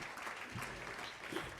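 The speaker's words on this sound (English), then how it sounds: "Thank you for that very polite golf clap." Faint, thin applause from a lecture audience, a polite and restrained golf-style clap that continues steadily for under two seconds.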